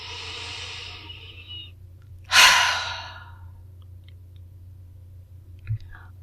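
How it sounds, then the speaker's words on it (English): One slow, deep exhale rushes out close to the mic in a quiet room, preceded by a softer, breathy intake and followed by near silence with a faint click. "take a breath with me."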